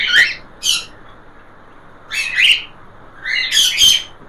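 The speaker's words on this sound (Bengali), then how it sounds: "প্রত্যেকটা পাখি চঞ্চল পাখি" Cockatiels let out bursts of shrill squawks and chirps, loud and close, in clusters separated by short pauses over a low steady hum, with no talking.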